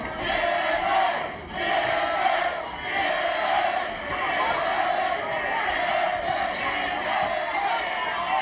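Boxing crowd in a ballroom venue chanting for fighter Jimmy Lange, a dense, steady roar of many voices with rhythmic swells and a brief dip before the chant resumes, loud and continuous.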